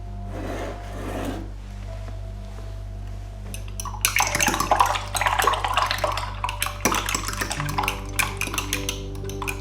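Eggs mixed together in a bowl for breakfast, a quiet start giving way to quick, uneven scraping and clinking strokes of a utensil against the bowl.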